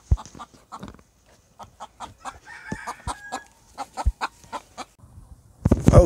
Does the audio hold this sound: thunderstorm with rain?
no